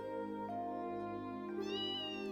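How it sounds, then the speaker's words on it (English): A pet cat named Errol in the video game Trails in the Sky SC meows twice, short and clear, over a steady background music bed. "It must be our cat."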